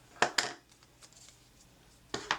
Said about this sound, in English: let's just take my scissors here and kind of cut it off at an angle there